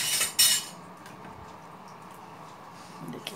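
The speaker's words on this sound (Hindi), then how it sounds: "इसे अच्छे से मिक्स कर लूँगी।" Coriander, mint and biryani ingredients for Hyderabadi mutton dum biryani are tossed together in a vessel, making a couple of sharp metallic clinks at the start, then soft scraping and faint rustling.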